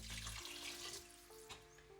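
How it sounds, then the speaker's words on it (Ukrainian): Cool water is poured into a hot liquid to make quick pie dough, a soft close pour and splash with a faint steady hum under it. "Я чекати не хочу, тому додаю прохолодну воду."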